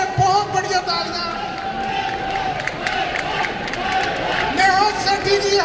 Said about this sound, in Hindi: टीम फरहान के लिए बहुत बढ़िया तालियां